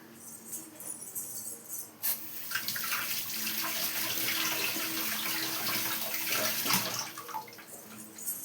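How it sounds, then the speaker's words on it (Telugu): Water poured into a pot of curry on the stove, a continuous splashing stream starting after a sharp knock and running steadily for several seconds, close and moderately loud, with no talking. "కొంచెం వాటర్ వేద్దాం."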